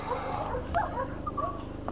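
A dog whimpers softly with a few faint, high yips over a quiet background hum.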